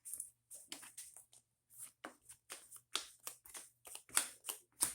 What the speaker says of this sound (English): I will go ahead and get these shuffled up